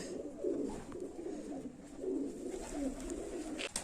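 A teddy pigeon, a racing bird, cooing softly nearby in low, throaty repeated phrases against quiet background hiss.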